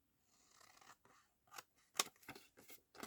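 Scissors cutting paper for a junk journal, a few quiet crisp snips with short pauses between them, heard close and alone.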